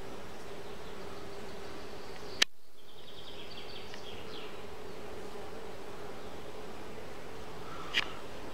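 A swarm of stray bees buzzing in a field makes a steady, continuous hum throughout. A sharp click cuts in once, and a brief high chirp comes near the end.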